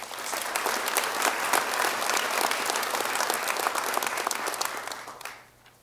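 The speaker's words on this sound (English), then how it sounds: "Big round of applause." Sustained applause from an awards ceremony audience, dense and steady clapping that carries on for several seconds before fading out at the end.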